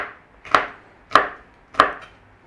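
Three evenly spaced, crisp knife strokes chop through vegetables against a cutting board for a stir-fry with black bean sauce, each one a sharp close tap with a quick fade.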